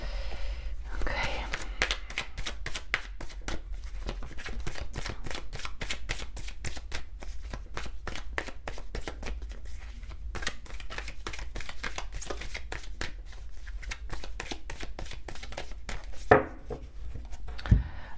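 Slippery tarot cards are shuffled in a rapid, rhythmic series of crisp riffling snaps, close and continuous, with a few louder knocks near the end and a soft voice speaking at moments.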